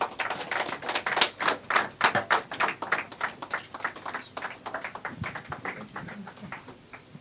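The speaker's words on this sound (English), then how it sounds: "another resounding round of applause, please, for the Honorable Minister, Honorable Sunday Darrett" Audience applause at a sports-industry roadmap event with the Nigerian sports ministry, a dense run of sharp hand claps that gradually thins and fades toward the end.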